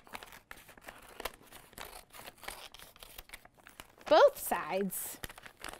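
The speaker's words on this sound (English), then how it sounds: "you're going to cut the bag apart. So you'll be safe with scissors." Scissors cut apart a plastic bag, making a brief loud crinkling and tearing burst near the end, with soft talking before it.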